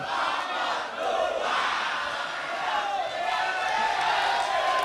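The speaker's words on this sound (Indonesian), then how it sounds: "Boleh tepuk tangan." Crowd cheering and applauding after a televised public debate between regional election candidates in Bulungan, Indonesia: a continuous loud roar of shouting voices mixed with clapping, rising and falling in waves throughout.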